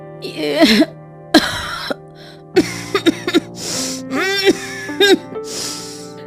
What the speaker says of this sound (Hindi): माँ को बुरी तरह से खांसी हो रही है